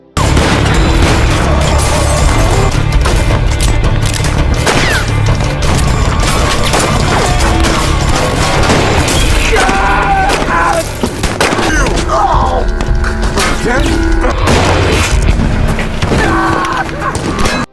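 A movie shootout fills the scene with dense, continuous gunfire, booms and crashes layered under loud dramatic music, staying at full intensity throughout.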